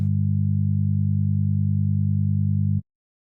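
A steady low electronic test tone hums continuously for nearly three seconds, then cuts off abruptly into silence.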